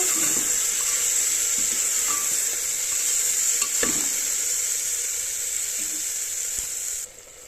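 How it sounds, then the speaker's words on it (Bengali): Soybean chunks sizzle steadily in a hot pan with occasional scrapes and stirring sounds, close up, before the sizzle drops off near the end. "এটা দিয়ে একটুখানি কষিয়ে নেব।"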